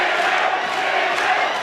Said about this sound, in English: Both sections of the crowd willing on their man.